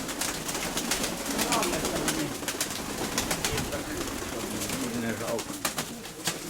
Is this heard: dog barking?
no